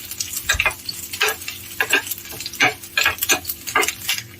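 Small coconut pieces roast in a pan for a Kerala-style sweet, loud close stirring scrapes repeating roughly twice a second over a low sizzle, with no speech.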